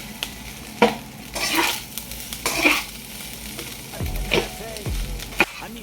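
Egg fried rice made from leftover white rice being stirred in a frying pan, with scraping strokes and a soft sizzle under them, close and moderately loud, plus a few sharper clinks of utensil on pan.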